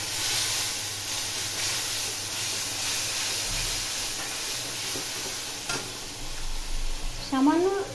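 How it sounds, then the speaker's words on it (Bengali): Ground cumin, coriander and turmeric fry in a pan while being stirred. A steady, loud sizzle and hiss carries throughout, with occasional scraping stirs and a brief clink toward the end. "সামান্য একটু নেড়ে সামান্য একটু মশলাটা কষাতে হবে"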